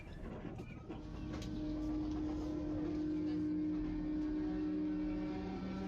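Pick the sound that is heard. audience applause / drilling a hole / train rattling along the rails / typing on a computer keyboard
train rattling along the rails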